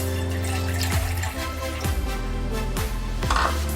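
A bowl of water poured into a cooking pot on a gas stove, heard as a close, steady pouring splash with shifting tones across several seconds.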